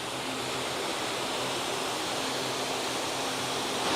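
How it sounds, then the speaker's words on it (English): A river flows near a waterfall in Bali, producing a steady, dense rush of water that stays loud and even throughout, with no voices. "in order to get over to the waterfall, you actually have to cross the river here"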